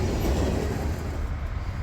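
A brand new rail car rolls along the rails in a constant loud rumble with a faint clickety rhythm, close by and alone without voices, the roar easing slightly toward the end.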